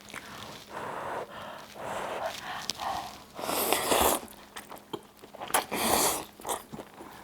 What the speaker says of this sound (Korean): 만두가 얼마나 매콤한지 제가 한번 같이 이렇게 먹어볼게요.